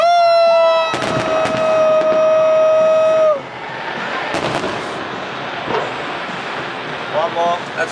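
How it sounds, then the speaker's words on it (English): Fireworks burst at the Honda Celebration of Lights festival in Vancouver, a series of sharp booms and crackles under a long loud whistling tone, with people talking nearby. "That's a lot of fireworks."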